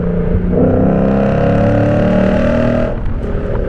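A Lexus RC F's loud exhaust roars at high revs, loud and close, holding a steady growl before dropping off near the end; no voices.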